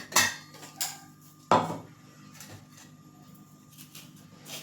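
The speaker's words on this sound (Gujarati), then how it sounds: "હું તેના પર આ રીતે ચમચીથી પ્રેસ કરતા જઈ અને બધો પાવડર છે તેને આપણે ચાળી લેશું" A metal spoon scrapes and taps against a strainer as ground fenugreek seed powder is pressed through into a vessel, giving a few sharp clinks early on followed by a faint, steady scraping.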